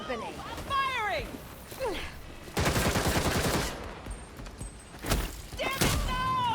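Bursts of gunfire in the video game Gotham Knights, loud rapid volleys arriving in separate clusters, broken up by shouted voices and effects between the shots.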